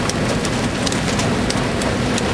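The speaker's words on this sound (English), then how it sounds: "It's raining right here and not over there by the land." Steady rain falls over a Louisiana bayou at Empire, a constant broadband hiss with faint scattered drop ticks throughout, no voices.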